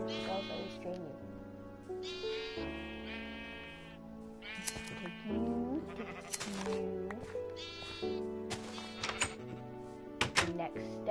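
Sheep in the Minecraft video game bleat repeatedly in short, bright, wavering calls, several overlapping across the stretch, with scattered clicks and thunks of gameplay between them.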